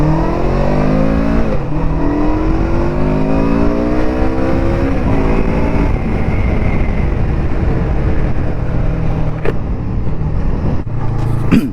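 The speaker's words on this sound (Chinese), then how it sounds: "它这个排气的声音真的还比较符合我一开始对那个巡航车的那种感觉，" Cyclone RA401 cruiser motorcycle pulling away under throttle, its deep exhaust rising in pitch as it revs up, dropping between gear changes and climbing again, loud and close, with brief clicks and knocks near the end.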